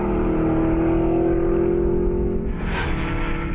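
An Aston Martin Vantage S V8 sports car drives on a track, a loud sustained engine drone with a steady tone that rises into a brief louder rush near the end, no talk.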